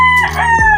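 A 7.5-month-old gamecock stag, about 2.7 kg, crows loudly and close in one short, strained call with a rough break midway.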